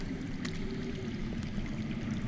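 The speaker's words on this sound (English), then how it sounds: "I hear water. From underground." Water flows underground in the Game of Thrones video game, a low, steady rushing and gurgling stream that sounds faint and distant, with no voices over it.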